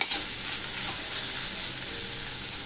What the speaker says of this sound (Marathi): चांगलं परतून घ्यायचं ह्या मसाल्यामध्ये बियांना